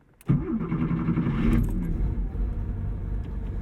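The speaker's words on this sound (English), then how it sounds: "Always satisfying to start up the 911." A Porsche 911 engine cranks and catches with a sudden roar, revs briefly, then settles into a deep, steady idle rumble, heard close with keys jingling at the start.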